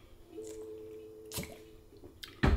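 A person drinks water between whiskey tastings: a couple of short, wet sips and swallows close by, set against a faint steady hum in a quiet room.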